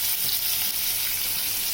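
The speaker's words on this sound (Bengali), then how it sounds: "দিয়ে খুব সুন্দর করে আমি আলুটাকে ভেজে নেব" Potato pieces frying in oil with a pinch of turmeric for a vegetarian potato and paneer curry, giving a steady close sizzle that holds evenly throughout with no voices.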